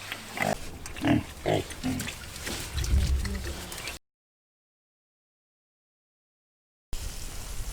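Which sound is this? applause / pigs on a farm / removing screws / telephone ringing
pigs on a farm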